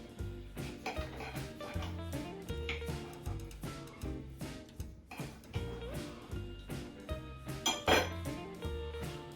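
Cutlery scrapes and clinks against a plate while cutting a bite of grilled ribeye steak, a busy run of close, irregular metallic taps and scrapes with no talk.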